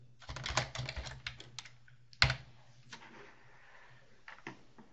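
Computer keyboard typing up close, quick clusters of soft key clicks with a sharper tap partway through, then sparse scattered keystrokes over a low background hum.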